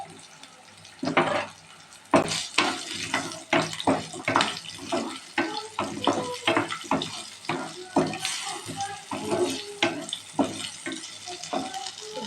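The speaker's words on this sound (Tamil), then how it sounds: "நல்லா மிக்ஸ் பண்ணிக்கலாங்க." A spoon stirs black chickpea gravy in a pot, giving close, irregular wet scraping and sloshing strokes that rise and fall in bursts with no talking.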